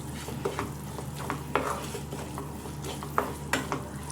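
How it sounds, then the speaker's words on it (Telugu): Gongura paste being stirred and mashed in a kadai gives a quiet, steady sizzle with irregular scrapes and soft thuds from the spoon, some of them sharper than others. "తర్వాత ఇందాక మనం పేస్ట్ పట్టుకున్న గోంగూరని కడాయిలో వేసుకొని బాగా స్మాష్ చేసుకోవాలన్నమాట."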